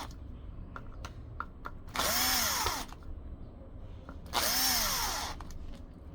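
A cordless power drill drives screws tight while a device is reassembled, giving two short whirring bursts that rise and then fall in pitch, with quiet handling clicks between them.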